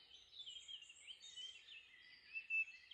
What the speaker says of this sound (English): There's a blackbird there.